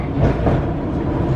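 A Class 484 train on the Island Line rumbles along with a steady, dense rolling roar, heard close from on board with no voices.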